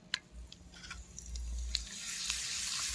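Papad fries in hot oil in a kadai, a soft, rising sizzle that builds into a steady hiss after a few faint clicks, heard close and without voices.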